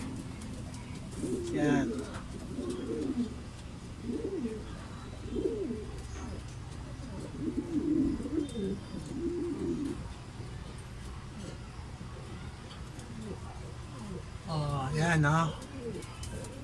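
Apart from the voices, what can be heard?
racing pigeons cooing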